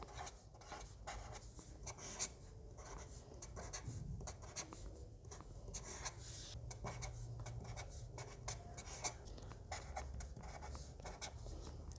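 Steady scratching of a pen or pencil writing by hand on paper while working a 2 by 2 matrix problem, continuous quiet strokes with small taps, close and faint, no talk.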